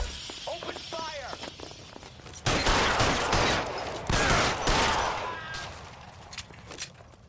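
Gunfire in L.A. Noire, loud, close bursts of rapid shots in two main flurries, with shouting voices before and after and scattered impacts in between.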